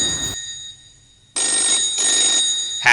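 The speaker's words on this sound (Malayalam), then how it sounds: "മിസ്റ്റർ വിൽഫ്രഡ് ഡിസൂസ, ഫോൺ എടുക്ക്." A telephone rings close by in bright, trilling bursts, the first cut short and then a longer ringing that carries on to the end.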